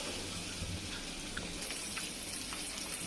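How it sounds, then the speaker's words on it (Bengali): Eggs frying in oil with a little turmeric in a pan, giving a faint, steady crackling sizzle without pause or voices. "আমি ডিমগুলো তেলে ভেজে নিচ্ছি"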